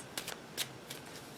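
Quiet tarot card shuffling: a few soft, crisp riffles and flutters at close range, in short bursts with pauses between.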